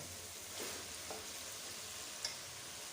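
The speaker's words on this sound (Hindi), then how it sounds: "मसाले के अंदर ना आलूओं को भून लिया, कच्चापन ख़त्म हो गया इनका।" Potato pieces frying in a spice masala for aloo palak give a steady, soft sizzle throughout, with a couple of faint stirring clicks and no voices.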